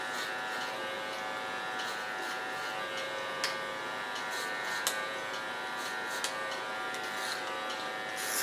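Electric hair clippers shave the side of a head during a punk-rock mullet cut, giving a steady close buzz throughout with a few small clicks and no talk.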